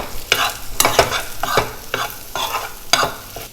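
Potato samosa filling with ground spices is stirred in a pan, with repeated scraping strokes about every half second, each carrying a crisp rustle over a low sizzle, close and fairly loud with no voices.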